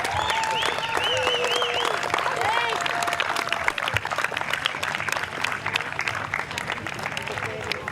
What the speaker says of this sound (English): A large round of applause for a great season.